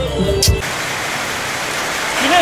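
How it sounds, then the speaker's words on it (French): Rain falls steadily in Phuket, Thailand, a dense even hiss of drops filling the scene after a brief thump at the start, with faint voices in the background. "J'attends qu'il arrête de pleuvoir"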